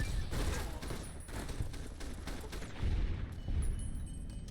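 Gunfire in Fallout New Vegas: a quick volley of repeated shots at the start, then a lower rumbling boom and lingering game ambience, with no voices over it.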